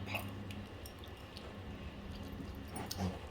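Soaked tamarind squished by hand, soft wet squelching and dripping sounds, quiet and close, over faint background hum.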